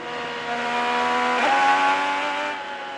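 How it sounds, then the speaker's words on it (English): A Chevy IndyCar race car engine screams at high revs, drops pitch sharply in an aggressive mid-corner downshift, then climbs again as the rear wheels spin up on the oval; loud and close, rising and fading. "He went for a pretty aggressive downshift mid-corner, Georgia, and then spun up his Chevy coming off of turn 4."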